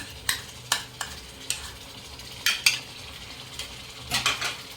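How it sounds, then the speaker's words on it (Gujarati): Yogurt being stirred into papad curry in a pan, with a series of clinking spoon-on-pan scrapes in uneven bursts, fairly close, over a faint low kitchen background. "દહીં નાખ્યા પછી સતત આ રીતના હલાઈ કરવાનું કે દહીં અંદર ફાટી ના જાય"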